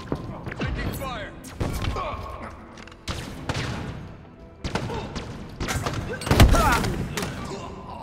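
Video game gunfire in Halo Infinite multiplayer cracks out in scattered bursts and single shots mixed with thuds and impacts, loud and uneven, as a player speaks briefly between exchanges.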